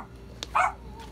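A dog at a marina gives one short, sharp bark, close by, over a quiet background.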